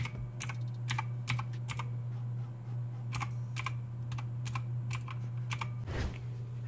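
Clicky keystrokes on a Game Power Ogre RGB mechanical keyboard, an irregular string of sharp presses over a steady low hum, ending in a louder burst near the close; no talk.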